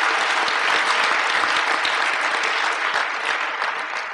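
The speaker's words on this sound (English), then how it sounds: "So I think we should applaud all those people." Loud, sustained applause from a large graduation audience at a college commencement ceremony, thick continuous clapping close and even throughout, tapering only slightly at the end, no voices heard.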